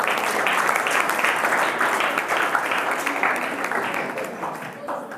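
Students at a school event break into loud, sustained group applause that gradually thins toward the end, with faint voices mixed in.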